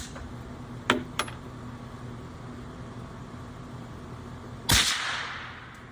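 A rifle shot using 77-grain ammunition, with two light taps first and then one loud, sharp crack that leaves a decaying outdoor tail over steady background hum.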